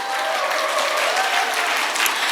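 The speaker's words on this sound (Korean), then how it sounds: "여러분 이 타이밍에 박수 한번 주세요." Applause from a crowd at a Korean company presentation event, a dense, loud, steady burst of clapping heard alone without speech.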